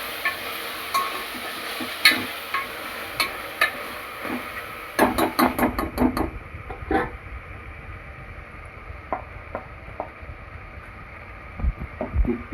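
Chicken biryani being stirred in a pot, with scattered scraping and clinking strokes from a ladle, a brief faster burst of rattling knocks in the middle, and faint sizzling underneath, without any talking.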